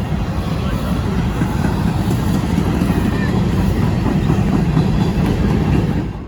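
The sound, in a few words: CSX Q008 freight train approaching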